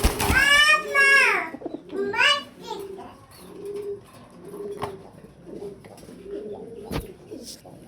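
Fancy imported pigeons coo in a loft, a series of soft, low, repeated coos spaced through the clip, after a person speaks loudly at the start, with occasional sharp clicks nearby.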